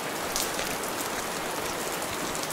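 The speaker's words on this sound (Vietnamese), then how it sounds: "Mưa lớn, đá trơn như vậy," Heavy rain falls in an animated cartoon scene, a dense, constant, loud hiss of drops on surfaces that fills the whole moment without letup. No one speaks.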